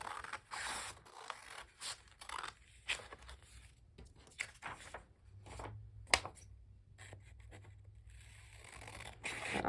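Scissors cut through paper-pieced quilt fabric and foundation paper, giving close, quiet snips and scraping rustles in short irregular bursts.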